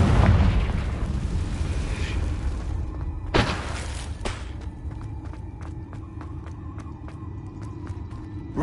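Explosions from the Confringo fire spell in the game Hogwarts Legacy: a loud boom at the start, two sharp blasts midway, then a rapid run of crackling bursts and another bang at the end.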